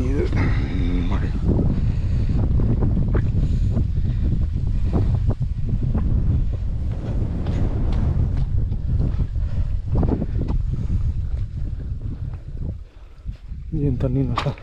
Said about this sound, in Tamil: சூப்பரான காற்றடிக்குது